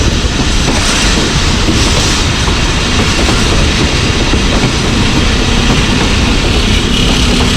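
Jaffar Express passenger train rolling through hilly Punjab country toward Jhelum railway station, a loud, steady, close rumble of wheels on rails with a faint clickety-clack running throughout and no voices.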